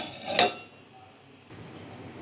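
A lid is set onto a cooking pot of chicken fry, a single bright metallic clink followed by a low, quiet background.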